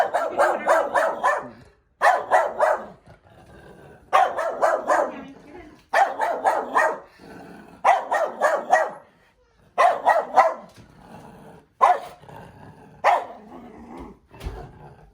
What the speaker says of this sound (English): when I engage with her, there's gonna be more barking